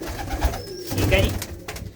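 Pigeons coo in low, rolling bursts close by, while someone talks over them through most of the moment.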